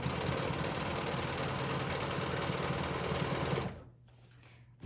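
A sewing machine stitches quilting arcs with a steady, loud, close mechanical whir and rapid needle chatter that runs continuously, then stops abruptly near the end, leaving a quieter hum.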